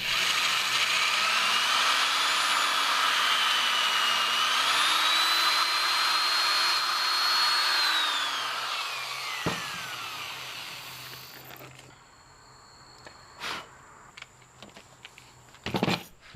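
Drill bores a hole in a Kohler engine bearing plate from a Wheel Horse 704 tractor, a steady whine with rising and falling pitch that stops midway, followed by a few sharp clanks and knocks.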